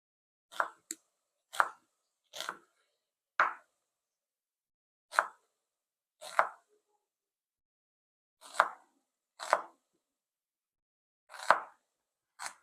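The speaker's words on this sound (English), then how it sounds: "So this big knife that I trust to chop my stuff." A big kitchen knife chopping food on a board in separate sharp chops, about a dozen irregularly spaced, close and fairly quiet with silence between strikes.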